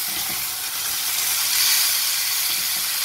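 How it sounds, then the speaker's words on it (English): Pork belly sizzles steadily while being pan grilled Filipino style, a constant bright frying hiss with no talk over it. "after we pan grill the remaining pork belly"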